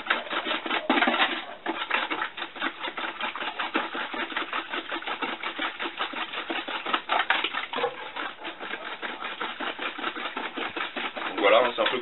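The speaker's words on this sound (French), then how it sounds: "à l'aide d'un fouet de cuisine, donc je la mélange" A kitchen whisk beating a liquid banana-scented boilie bait base for carp fishing in a bowl, a rapid continuous rhythmic scraping and sloshing held steady for many seconds, close and fairly loud, no talking.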